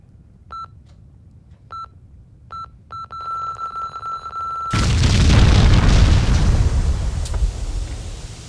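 A bomb goes off in the video game Max Payne 2: a run of short electronic beeps, then a long held tone, then a sudden loud blast that roars on as a heavy rumble until the end.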